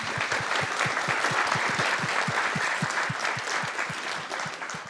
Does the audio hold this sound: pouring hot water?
no